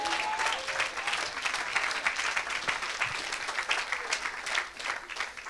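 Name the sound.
audience applauding at a church service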